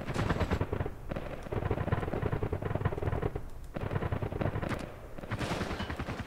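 Rapid automatic gunfire in the military shooter Project Reality v0.95, dense bursts of loud rattling shots with a few brief pauses, continuous and close, with no talk over it.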